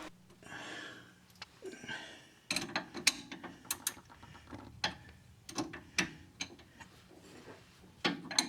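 Nuts on a C3 Corvette idler arm and tie rod end are loosened with a ratchet, giving quick bursts of clicking pawl ticks and metallic clinks, close and fairly quiet, with pauses between the turns.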